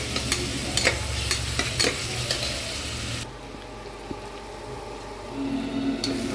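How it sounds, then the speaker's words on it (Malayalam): Green chili, ginger, garlic and crushed fennel seeds fry in a pan with a loud, steady sizzle and occasional stirring scrapes, the hiss easing slightly partway through. "ഇട്ടിട്ട് അതൊന്ന് വറകട്ടെ."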